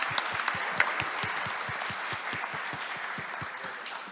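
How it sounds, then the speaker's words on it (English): Audience at a port innovation and sustainability conference session applauding panelists, steady even clapping with distinct rhythmic claps standing out, moderately distant and sustained throughout. "please may I ask you to give them a very, very warm round of applause"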